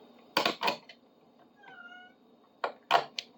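A house cat meows during a bar clamp restoration in a workshop, a faint tonal call in the middle with sharper clattering noises before and after it.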